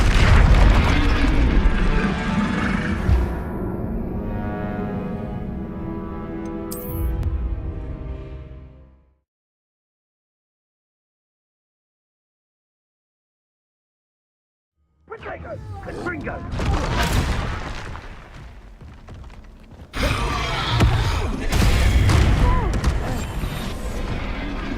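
Explosive spell blasts in the Hogwarts Legacy video game: loud booming bursts amid talk and battle noise, then a long silent gap, followed by more bright, dense blasts.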